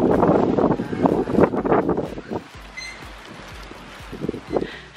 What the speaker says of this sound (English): The weather is very, very windy out there.